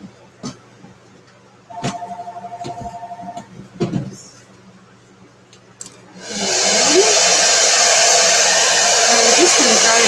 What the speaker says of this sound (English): I am going to turn on my blow dryer